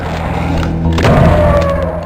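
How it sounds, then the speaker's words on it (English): Explosive vases in the Doom game burst with a heavy, booming thud, one short loud blast ringing out with no talk. "I think they are explosive vases."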